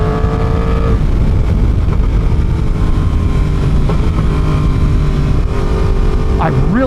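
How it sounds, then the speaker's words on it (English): A Yamaha R1 sport motorcycle cruises down a highway with a steady engine drone and heavy wind rush, a rising shift near the end, while a rider talks over it. "One thing I do want to point out about the R1 going down the highway here, absolutely zero buzziness in the handlebars or in the foot pegs."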